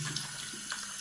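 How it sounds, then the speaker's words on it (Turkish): Tap water runs steadily and quietly over a toilet cistern float part as it is rinsed clean of limescale in a sink, a soft continuous splashing with no talk. "etrafında da aynı şekilde kireç kalıntısı kalmayacak şekilde yıkıyorum burayı"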